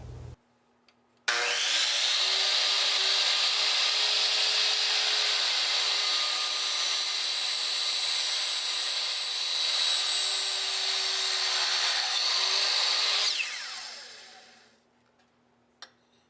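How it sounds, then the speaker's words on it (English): A miter saw cuts a cabinet lift-system stabilizer rod to length: the motor spins up sharply, whines steadily while biting through the rod for about twelve seconds, then winds down to silence. "Use a miter saw or a hacksaw to cut your rod to length."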